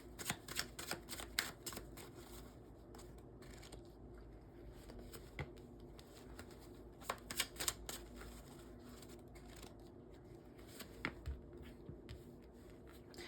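Tarot cards are shuffled and drawn close up with a quiet, continuous patter of rapid card flicks and soft slaps over a faint hum, with bursts of riffling throughout.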